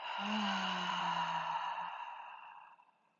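A full exhale out through the mouth, a close, breathy, voiced sigh with a low hum that trails off over about three seconds.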